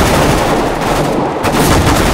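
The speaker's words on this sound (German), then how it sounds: "Wenn du nochmal auf das schießt, wo ich drauf schieße, Andi, ne?" Dense, loud, continuous gunfire from the video game Counter-Strike: Global Offensive, with rapid automatic shots blurring into a constant roar with only a brief dip.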